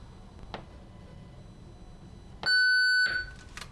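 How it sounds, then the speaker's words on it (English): A loud steady test-tone beep from a reference tape played on a Sony WM-FX491 Walkman cassette player during a wow and flutter test, a single sustained tone of about half a second standing out over low background hiss, with clicks before and after. "Oh, the beep is pretty loud."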